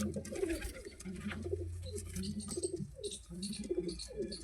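Pigeons coo in low, repeated throaty murmurs, overlapping in a steady stream with faint rustling and background noise.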